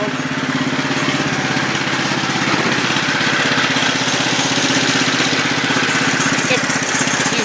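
An old Cub engine idles after a cold start, a shaky, loud putter with a rapid steady firing pulse that runs without a break.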